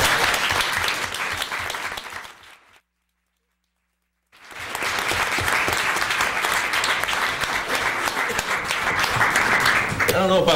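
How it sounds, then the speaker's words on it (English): Full, loud applause from the audience at a community center public hearing, broken by a sudden gap of silence, then resuming just as dense and sustained. "Can we give them a round of applause?"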